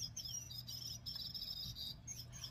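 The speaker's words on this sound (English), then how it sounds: "You hear that little bird?" A small bird chirps in quick repeated bursts, faint and high, over a steady low indoor hum with no talking.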